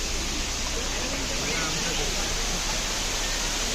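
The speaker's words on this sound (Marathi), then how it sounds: "मागच्या टायमाला आलेलं तेवढा एवढा धबधब्याचा वेग नव्हता" A fast-flowing waterfall roars as a dense, unbroken rush of water, loud and close, holding steady at one level throughout.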